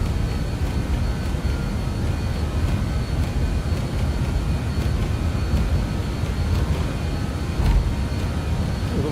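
Steady, loud roar of RJ100 jet engines spooling at takeoff thrust in a flight simulator, a broad continuous rumble with a faint whine that holds level throughout, with a brief thump near the end.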